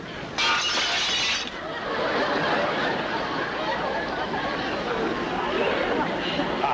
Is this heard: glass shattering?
yes